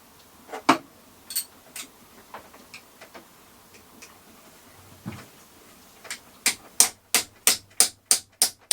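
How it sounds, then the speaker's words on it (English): Metal hammer striking a socket during a marine engine overhaul aboard a sailing boat, irregular knocks at first, then a fast run of eight loud, evenly spaced sharp strikes near the end. "I've just managed to hammer a socket into there"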